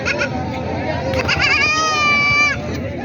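Goats bleat loudly and repeatedly, with a long wavering cry near the end, amid crowd chatter and children's voices at a busy weekly Friday village goat market in rural Maharashtra.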